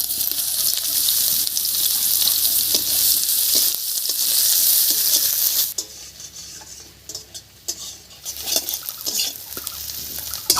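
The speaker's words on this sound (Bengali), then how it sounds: "এবার কড়াইতে আবার একটু তেল দেব এই তেলের উপরে দেব একটা পেঁয়াজ কুচি" Chopped onion frying in oil in a wok (kadai) on a Bengali home stove, a loud, steady sizzle that drops away partway through, leaving softer crackles and occasional stirring clinks.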